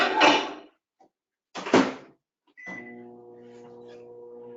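Microwave oven melting chocolate, with a couple of sharp clunks of the door and panel, then a steady humming drone as the oven starts running.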